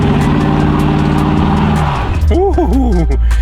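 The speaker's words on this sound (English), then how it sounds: "Let's do a little burnout for him at the stop sign." A Chevrolet Camaro 2SS engine revs hard with a sustained roar during a burnout at a stop sign, then high-pitched tire squeals rise and fall as the wheels spin and slide; voices talk over it.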